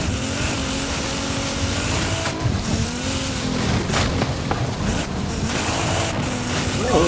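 Video game car chase with a Nissan vehicle, engine droning steadily throughout with shifting revs and occasional tire noise, loud and continuous.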